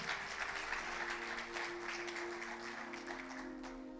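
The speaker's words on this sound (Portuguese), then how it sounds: "Você pode dar o seu melhor aplauso a Deus por essa história" A church congregation applauds, a steady wash of many hands clapping at moderate distance under a faint sustained tone, continuing for several seconds.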